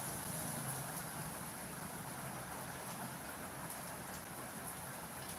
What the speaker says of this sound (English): You just want to hear only the sound of the rain.